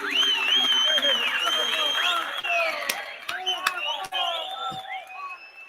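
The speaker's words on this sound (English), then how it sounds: "let me play some applause sounds" Canned applause sound effect played back during a football reaction talk show, a dense wash of clapping and cheering with a voice speaking over it, moderately loud with a few sharp transients.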